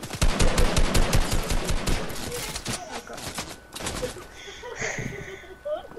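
Rapid automatic gunfire in a Fortnite match, loud bursts of shots at first, then scattered shots and game effects as a player talks over the action.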